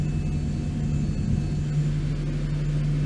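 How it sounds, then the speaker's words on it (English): Boeing 737-800 jet engines in the X-Plane 11 flight simulator, a steady loud roar with a low hum and faint whine, holding even for several seconds with no talk. "These sound more like 737s to me."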